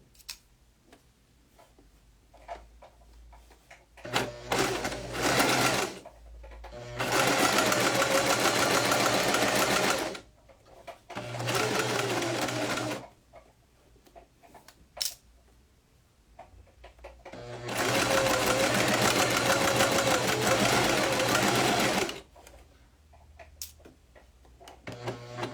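A sewing machine stitching a French seam in two long, loud runs of rapid mechanical whirring and clatter, separated by quieter gaps with a few short bursts and clicks as the fabric is repositioned.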